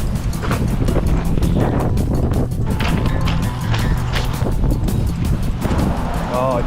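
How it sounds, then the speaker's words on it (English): Strong, cold wind buffets the microphone outdoors at Turnagain Arm, Alaska, a constant loud rushing roar with gusty bursts. "All right, it's windy, guys."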